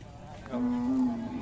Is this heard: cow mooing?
yes